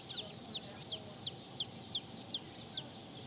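Buckeye breed baby chicks peep in a steady series of about nine high, downward-sliding chirps, evenly spaced and moderately close, over a faint background hiss.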